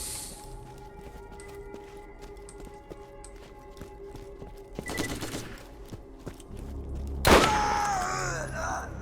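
Gunfire from a gun in the video game Borderlands: a short crackling burst midway, then a sharper, louder shot near the end, over a steady humming game background.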